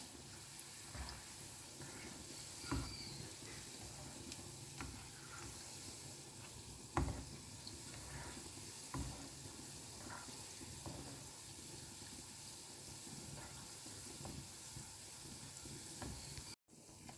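Steady oil sizzle and bubbling from bread frying over a low flame, with a few soft clinks of a utensil, quiet and continuous throughout.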